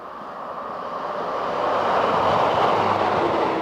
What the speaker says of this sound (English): this is a very good place to watch trains go by.